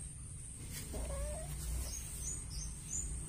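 Cat meowing in a quiet outdoor spot near rabbits, a faint drawn-out whining call followed by a few short higher chirps, distant and low over steady background hiss.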